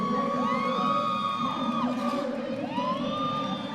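A loud roller derby crowd cheers and whoops without a break inside an arena during a game, Team Philippines against API Fury at the Y'Allstars Southern Skate Showdown. Rising and falling whistles or wails ride over the dense roar.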